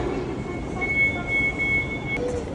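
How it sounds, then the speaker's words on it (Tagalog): A fast train in Hong Kong, heading toward Disneyland, rides with a steady rumble and rushing noise while a thin high squeal runs along underneath. "Ang bilis ng tren dito guys."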